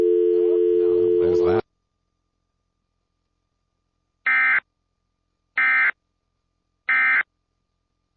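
Telephone line tones during a radio phone call: a steady buzzing tone runs under brief speech, then after a pause three evenly spaced short beeps sound alone.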